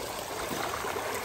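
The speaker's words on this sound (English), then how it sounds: "the water comes up through the bottom of it and washes off a lot of the rocks" Water flows steadily through a gold sluice box, rising from below to wash over rocks in a continuous, moderately loud rushing trickle with no talk.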